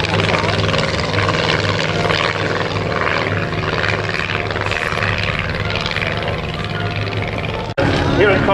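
World War I-era aircraft with a rotary or piston engine flying at an airshow at Cosford, a droning propeller roar that holds steady and fairly loud throughout and cuts off briefly near the end.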